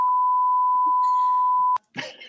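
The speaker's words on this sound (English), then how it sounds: "I got a beep button here." A censor beep from a handheld beep button, one steady electronic tone held for nearly two seconds, loud and alone, cut off abruptly before brief talk resumes.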